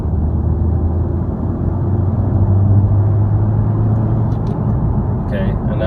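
A Mercedes W204 C180 fitted with a RaceChip XLR accelerating on a 40-to-60 mph road, heard from inside as a loud, steady low engine drone and road rumble with no talk.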